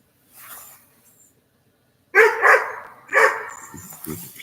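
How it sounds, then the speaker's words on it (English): Dog barking indoors at someone arriving home: a faint muffled whimper first, then after a pause several loud, close barks in quick succession, with softer yips trailing off. "If you like to hear dogs bark, there you go."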